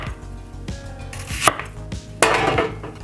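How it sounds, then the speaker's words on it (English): A knife slices a red onion on a cutting board, giving about half a dozen sharp chops at an uneven pace, fairly close and clear, with no talking. "Now the red onion, we're gonna slice it about"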